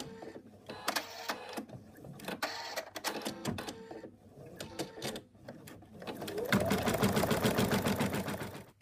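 An embroidery machine stitches an applique placement line with rapid, rhythmic mechanical clatter, in uneven bursts at first, then a denser, louder continuous run of stitching toward the end.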